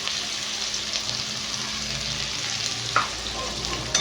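Chopped onion frying in the hot oil left over from frying fish: a steady, dense sizzle that holds evenly throughout, with a couple of faint stirring clinks near the end.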